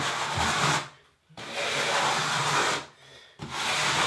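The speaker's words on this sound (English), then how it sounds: "So now we're going to just scrape off the grout at a 90-degree angle" Excess grout is scraped off a ceramic bathroom floor tile held at a right angle, making three long, loud abrasive rasping strokes separated by brief pauses.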